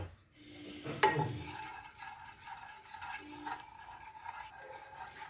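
Cashew and almond powder stirred and roasting in hot ghee in a pan, a sharp scrape of the spoon near the start, then soft continuous scraping and faint sizzle, close and fairly quiet.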